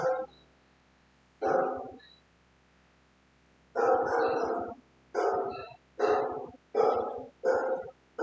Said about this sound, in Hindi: बड़ा बदमाश कुत्ता टाइप है।